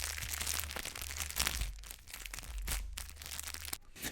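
Continuous crinkling and crackling of a plastic bag, dense and close, with irregular bursts and brief pauses, no voices.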